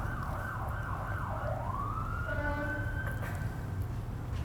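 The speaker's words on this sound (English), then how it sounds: "Just let the siren go by." The siren of a passing emergency vehicle wails in a rising and falling sweep, then shifts into a long steady tone and fades as it moves away, heard at moderate distance over low traffic rumble.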